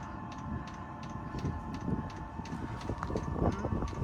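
A diesel heater fitted in a 2017 VW Crafter van runs through its first burn, a steady low rumble and whir with a faint regular ticking, close and continuous.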